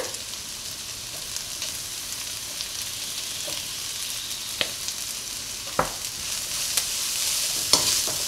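Shredded cabbage, capsicum and spring onion stir-frying in a hot pan for egg fried rice, a continuous bright sizzle punctuated by sharp scrapes and taps of a spatula tossing the vegetables.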